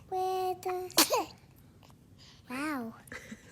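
A baby gives a single sharp sneeze amid high-pitched babbling and cooing, close and fairly loud, with more baby vocalizing before and after.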